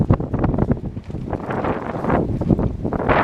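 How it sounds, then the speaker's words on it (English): Strong gusting wind buffeting trees in a muddy outdoor spot, a loud, rough rushing roar with rustling and microphone buffeting that swells and eases over a few seconds. "Can you hear the wind? See the trees going?"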